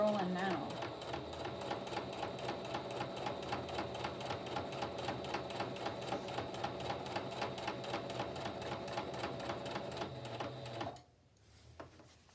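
Sewing machine stitching a softcover for a journal runs in a steady, fast mechanical rhythm for about eleven seconds at close range, then stops abruptly, leaving a quiet room.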